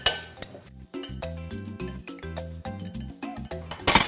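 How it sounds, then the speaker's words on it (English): Potatoes being tossed in an oil and butter mixture in a bowl, close clinks and clatters of utensil against the bowl in quick uneven bursts, with a louder scrape at the end and no speech. "So you just want to toss your potatoes in the oil butter mixture until they're very well and completely coated."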